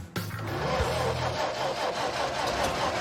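An old, rusty car engine cranks and catches, then runs loud and steady with revving, close up and continuous for the whole stretch.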